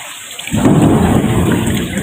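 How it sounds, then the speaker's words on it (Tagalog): Heavy rain pours down in Jeddah during a thunderstorm, a loud steady roar of downpour and rumbling thunder that bursts in after a quiet start and continues close and dense. "lalong lumakas ang ulan"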